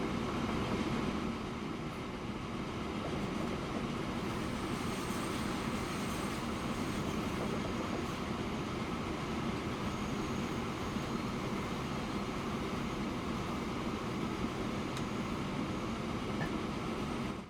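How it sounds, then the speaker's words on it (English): A train running in the rail-building game Transport Fever rolls along in a steady, continuous rumble with faint wheel squeal, loud and unbroken throughout with no talk over it. "Actually, there's probably a train up here which has just been upgraded."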